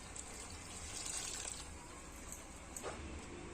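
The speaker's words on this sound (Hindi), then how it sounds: "अब डाल देबो हम रसा भर पानी।" Water poured into a cooking pot to make the curry gravy for a small-fish curry, a steady splashing gush heard close and alone with no talk.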